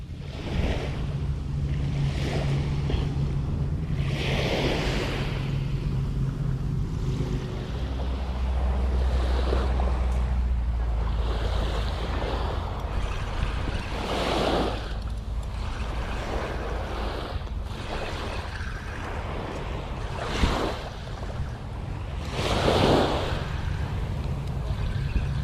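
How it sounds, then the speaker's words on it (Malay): Ocean waves wash onto a sandy beach at Port Dickson during the day, a loud continuous surf roar with periodic swells breaking and retreating, wind rumbling against the microphone, and no voices. "Ombak tarik air kak."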